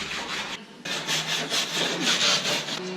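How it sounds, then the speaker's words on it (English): Harsh, continuous wire brushing on a rusty car floorboard of a Ford Taurus, loud close back-and-forth scrubbing strokes with one short pause early on. "just going to wire brush everything first"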